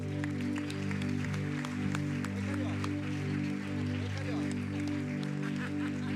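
A congregation at a church service applauds, a loose patter of clapping that carries on under sustained organ or keyboard chords.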